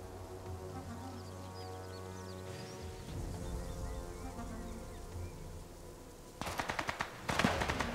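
Gunfire in the video game Sniper Elite 5, with bursts of rapid shots near the end over a droning background of game ambience and engine-like hum.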